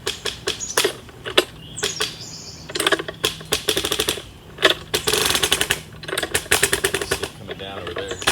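Rapid ratcheting clicks from an ARB hand winch being cranked, coming in bursts of quick repeated clicks with short pauses between strokes, close by and fairly loud.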